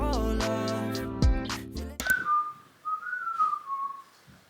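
A person whistles a theme tune, a clear melodic line of sustained and gliding notes heard close up. Other sounds are heard before the whistling begins.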